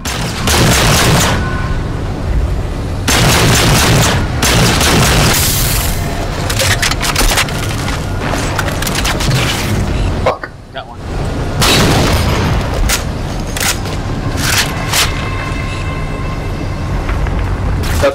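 Rapid bursts of gunfire and booming explosions from the video game Halo 4 run almost without pause, loud and dense, with a brief drop near the middle before the firing resumes; a voice talks at points under the shooting.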